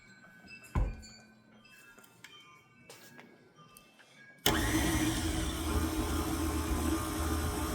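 An electric mixer beating chocolate peppermint cake batter starts abruptly after a few soft clinks and knocks, then whirs loudly and steadily with a rattling buzz until the end.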